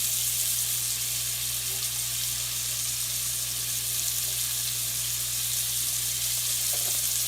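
A whole venison loin seasoned and searing in olive oil in a pan gives a steady, continuous sizzle that holds at an even level throughout, with no voices.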